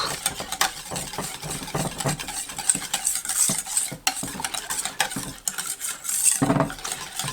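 A spoon stirs butter melting into chocolate ganache in a pan, producing continuous scraping and light metallic clinks over a soft sizzle, close and fairly loud, with no speech.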